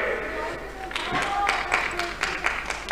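Spectators applaud athlete Isidre Ferrer at a Spanish masters athletics championship in San Fernando, light clapping that builds slowly beneath steady talk over a loudspeaker.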